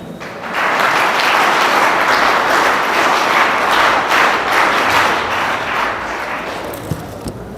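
Audience applause at an NCC seminar on healthy life, hygiene, sanitation and cyber crimes: a large crowd claps loudly and steadily, filling the room for about seven seconds before tapering slightly, with no talk over it.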